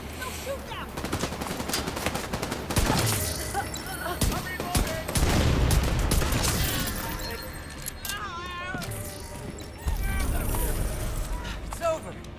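Bursts of automatic and single-shot gunfire from a shootout against enemies in The Division 2, with dense rattling volleys, sharp cracks and impacts layered over game effects and spoken voices.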